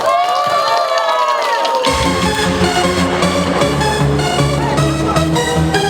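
A festival opening-ceremony crowd claps and cheers loudly, with shouting voices rising over the steady applause.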